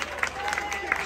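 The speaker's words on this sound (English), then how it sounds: "Round of applause for the physios." A distant stadium crowd at a Livingston v Greenock Morton football match applauds the physios, a broad wash of clapping with a few sharper claps standing out.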